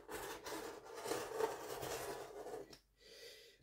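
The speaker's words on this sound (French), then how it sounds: "Je vais découper mes deux petites poches," Scissors or shears slicing through fabric to cut out pocket pieces for a sewing project, a steady close rasping cut lasting nearly three seconds before stopping, followed by a faint rustle.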